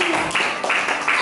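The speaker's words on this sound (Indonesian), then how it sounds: "tepuk tangan dulu kelompok 1" A classroom group clapping together for a student group, a steady dense patter of many hands over a short burst, fairly close and loud.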